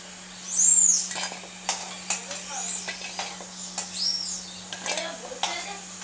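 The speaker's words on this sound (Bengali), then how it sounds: "বড়াগুলো ভেজে নিচ্ছি" Bora fritters fry in a pan with a light sizzle under a steady hum, punctuated by sharp clinks and scrapes of utensils against the pan and a brief high squeal near the start.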